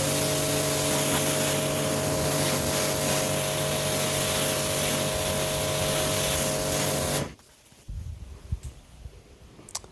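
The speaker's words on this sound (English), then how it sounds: "Jet wash clean, repeat 3 times." A pressure washer sprays a car during a graphene wax durability test, a loud, steady hiss with an engine drone beneath it that cuts off abruptly after about seven seconds, leaving scattered low splashing and clatter.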